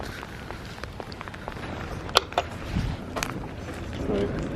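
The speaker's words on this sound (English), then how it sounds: "So it's raining." Rain falling outside, a steady broadband patter with a few sharper knocks and brief bursts scattered through it, moderately loud and continuous.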